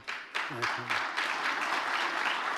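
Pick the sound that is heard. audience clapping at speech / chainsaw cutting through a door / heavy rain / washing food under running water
audience clapping at speech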